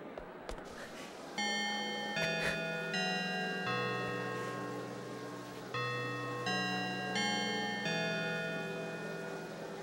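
A school chime in the PS2 game Blood: The Last Vampire plays a slow sequence of sustained, bell-like tones that overlap and ring out, with a faint voice briefly beneath.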